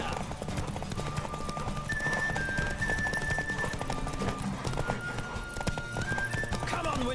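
Roach, Geralt's horse in The Witcher 3, galloping flat out in a race, its hooves drumming in a steady, loud clip-clop rhythm under game music, with a brief whinny and a voice cheering it on.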